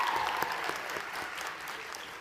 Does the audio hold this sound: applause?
yes